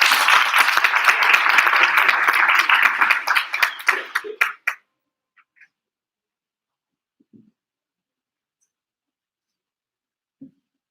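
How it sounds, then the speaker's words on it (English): Applause from a school audience at an English public speaking competition, a dense burst of clapping for about four seconds that thins into a few scattered claps and then quiet. "Let's give her a big applause"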